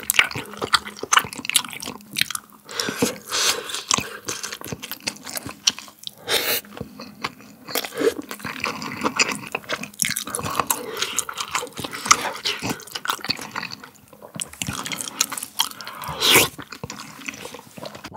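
Close, wet chewing and crunching of spicy tteokbokki with side dishes such as glass noodles, bacon, fried seaweed rolls, wings and steamed egg, with steady bites and slurps throughout and no talk.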